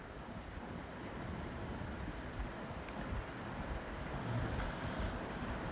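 Steam escapes from a pressure cooker as a faint, continuous broadband hiss that holds steady for several seconds, with no voices.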